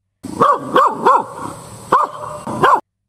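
A bulldog barks five times in quick, uneven succession, loud and close, with a short pause before the last bark.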